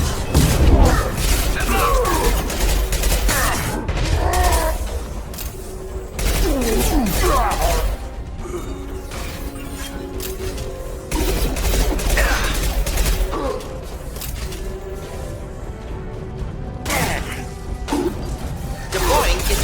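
Rapid bursts of gunfire and impacts from the Mass Effect 2 video game fill the scene, loud and sustained with pauses, mixed with game effects and speech.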